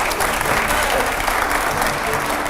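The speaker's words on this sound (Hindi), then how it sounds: "तालियां हो जरा" Steady audience applause at a Hindi political talk event, dense clapping held at even loudness for the whole stretch without a break.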